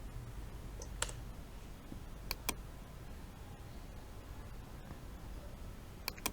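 Computer mouse clicks at a desk while working in Photoshop, sparse sharp single clicks spread apart over a low steady room hum, no talking.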